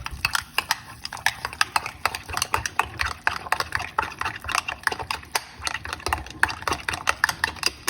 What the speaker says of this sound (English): And you just want to stir this up.